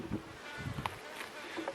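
Honeybees buzzing around an opened hive during a beekeeper's inspection, a close, steady insect hum with brief louder passes near the microphone.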